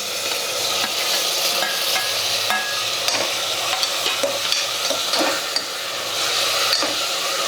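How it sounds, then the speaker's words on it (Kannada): Chopped tomatoes fry in a hot pan for hotel-style paneer pulao, a steady close sizzle with scraping stirs and light utensil clinks running throughout, no voices. "ಈ ಟೊಮೆಟೊನ ಮೆತ್ತಗಾಗೋರಿಗೆ ಫ್ರೈ ಮಾಡ್ಕೋಬೇಕಾಗ್ತದೆ."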